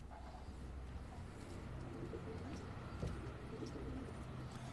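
Racing pigeons coo low and steadily inside a loft in a yard behind a shop, with a soft rumbling background and no talk.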